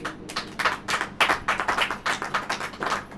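A church congregation claps in a quick, fairly even rhythm during a sermon, with a dense run of hand claps close by and no speech.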